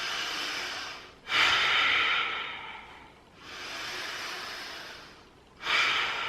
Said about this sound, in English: Let's take 5 breaths here.